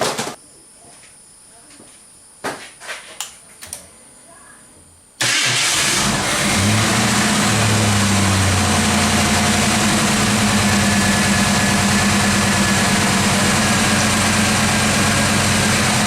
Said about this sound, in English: Now we're going to crank it up and see if the alternator's charging.